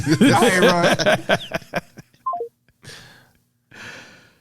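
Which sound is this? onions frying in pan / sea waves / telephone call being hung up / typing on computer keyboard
telephone call being hung up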